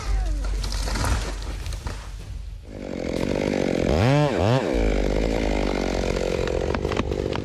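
A tree-felling machine with a 59-inch saw bar cuts through trees, its chainsaw-like engine whining loudly and sweeping up and down in pitch over heavy mechanical rumble, close and continuous.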